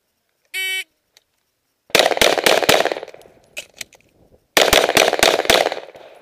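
Rifle shots ring out at a benchrest gun club range, a short buzzer first, then two loud bursts of sharp, closely spaced reports, each tailing into echo and quiet between.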